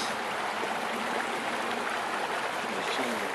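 Soft, steady rush of the Purgatoire River near Trinidad, Colorado, reduced to a thin trickle by damming upstream, continuous and fairly close with no voices.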